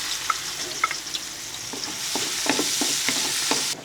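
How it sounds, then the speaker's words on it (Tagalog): Onions sautéing in coconut oil in a pan give a continuous close sizzle, broken by scattered scraping stir strokes that grow busier toward the end. "Igigisa po natin itong ating giniling. Pero unahin muna natin yung ating bawang, sibuyas."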